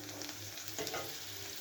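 Garlic, onion and turmeric fry in a pan with a soft, continuous sizzle and a brief stirring scrape, quiet and close, with no talking.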